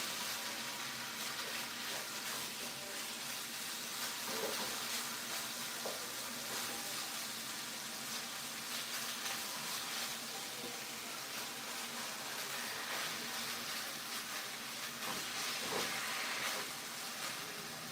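Sugar melting with coconut milk in a pan gives a faint, steady sizzle and hiss, with occasional soft stirring clicks, continuous and without talking.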